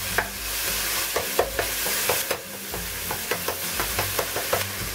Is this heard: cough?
no